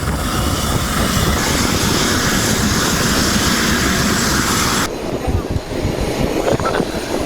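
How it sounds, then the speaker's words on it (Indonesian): A Basarnas Dolphin rescue helicopter on a medical evacuation after an earthquake in East Nusa Tenggara, heard as a loud, steady rotor and engine drone, close by, that abruptly drops to a duller, quieter rumble partway through. "Evakuasi medis dilakukan menggunakan helikopter Dolphin Basarnas"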